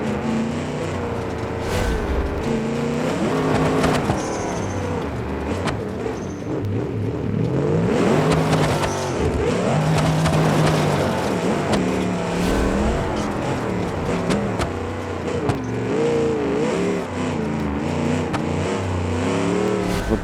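A 6x6 truck engine in the BeamNG driving game revs and strains continuously, pitch rising and falling as it works through rough terrain, loud and close with no talk.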